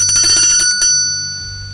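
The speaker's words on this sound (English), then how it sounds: "This is my Salvation Army bell." A hand-held Salvation Army bell, the kind rung outside stores at Christmas, rings rapidly several times up close, then one final stroke lets its bright metallic tone hang and fade out alone.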